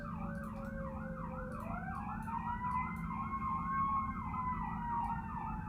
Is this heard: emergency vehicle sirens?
yes